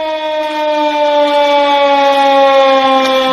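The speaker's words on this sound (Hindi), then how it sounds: "अब आप देखिए सायरन की आवाज बज रही है" A loud civil defense siren wails steadily, its rich harmonic tone sustained and slowly sliding in pitch, with no voices.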